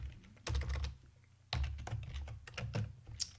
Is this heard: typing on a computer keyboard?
yes